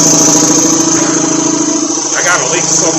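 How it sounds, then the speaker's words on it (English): An air compressor in a workshop servicing a 2021 Chevy Tahoe runs loud and steady with a constant motor drone and rhythmic pumping, with someone talking over it. "I think I probably got to turn the air compressor on."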